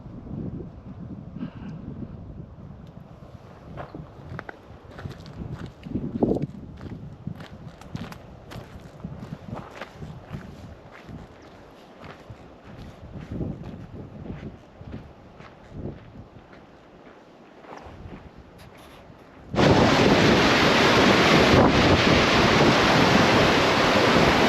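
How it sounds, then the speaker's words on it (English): Gusty wind buffets the microphone on a mountain trek along the Torres del Paine W route, with footsteps and rustling underneath, then jumps into a loud, steady roar of wind noise in the last few seconds. "there's a bit of a breeze kicking up here too"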